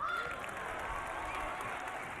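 Sustained applause and crowd noise fill an arena during a professional squash match at the World Tour Finals, a steady, moderately loud wash of clapping with no single claps standing out.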